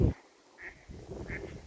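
A bird flies off from a bush giving two short, nasal, duck-like calls spaced apart over a faint rustle, rather distant and quiet.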